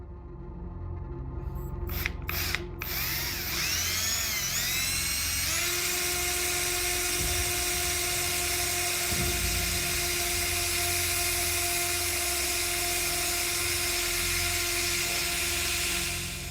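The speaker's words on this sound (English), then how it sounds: "He starts drilling." A drill bores into a metal object with a loud, steady high-pitched whine that shifts pitch as it bites in, continuing for the whole stretch after a few brief clicks at the start.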